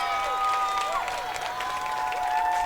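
The Merrimack home crowd at a girls' varsity high school lacrosse game against Winnacunnet cheers and claps in a steady, fairly distant wash of noise, with whistle-like tones sliding over it and a commentator's voice starting to talk.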